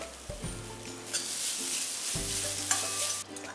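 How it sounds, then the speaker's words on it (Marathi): Grated fresh coconut stirred and dry-roasted in a kadhai for ladoos, a steady scraping and faint sizzle with a few sharper spatula knocks, close and fairly quiet, no voices. "याच कढईत आपण आता ओलं खोबरं थोडं गरम करून घेणार आहोत."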